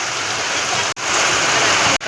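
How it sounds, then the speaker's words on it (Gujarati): Heavy rain pours down during a storm, a dense, loud, continuous hiss with two brief cut-offs and no voices. "વરસાદ ચાલુ થઈ ગયો છે બરાબર"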